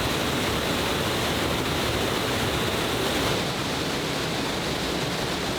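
The last waterfall at the end of route 3 in the Ecuadorian Amazon forest pours as a steady, dense roar of rushing water, loud and unbroken throughout, with no voices over it.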